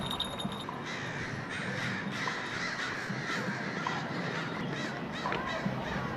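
Crows at a city roost caw repeatedly, many harsh calls overlapping from several birds at varying distances over a dense, noisy background, with no talking.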